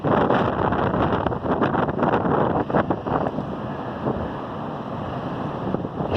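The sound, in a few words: strong wind and surf at Lincoln City during king tide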